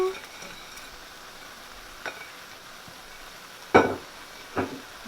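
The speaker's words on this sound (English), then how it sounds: "We're going to give it a stir" Tofu stir fry in a pan, with a low steady sizzle beneath a few separate scraping and clinking stir strokes near the end.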